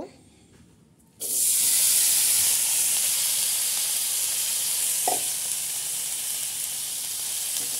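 Bitter gourd leaves drop into a hot wok and burst into a loud, steady sizzle that fills the rest of the clip after a quiet start, with a single brief clink partway through.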